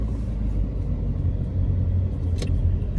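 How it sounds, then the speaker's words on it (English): A car passes along Chino Hills Parkway near Carbon Canyon, a steady low road rumble and engine drone filling the whole stretch, with a brief hiss partway through as it goes by. "car coming"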